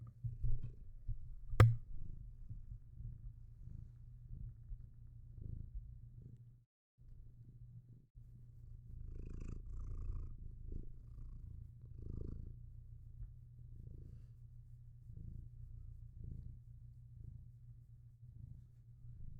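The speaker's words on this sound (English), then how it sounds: "Let's pause the music so you guys can hear him purring" A contented cat purring close to the microphone, a soft low rhythmic rumble repeating steadily for about twenty seconds, with one sharp click early on and a brief pause midway.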